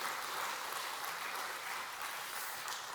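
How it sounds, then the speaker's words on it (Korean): A church congregation at a Wednesday service gives a round of applause after a women's choir sings, a soft, even patter of many hands clapping at a distance for a few seconds. "크게 박수하겠습니다."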